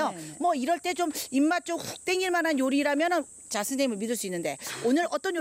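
Summer cicadas drone in a steady, high, continuous buzz behind two people chatting on a cooking broadcast. The insect sound stays faint but constant under the talk.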